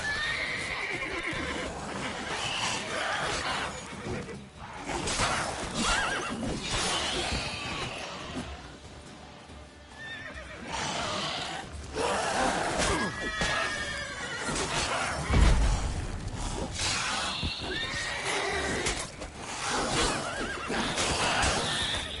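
A horse in The Witcher video game neighs and whinnies repeatedly while its hooves clatter and kick, mixed with game effects and occasional crashing sounds over about twenty seconds.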